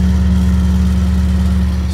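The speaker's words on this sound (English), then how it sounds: "Still sounds very good for a stock exhaust." A 2018 Toyota Tundra with its stock exhaust runs loud and close, its deep engine drone holding steady through a continuous rev with no voices over it.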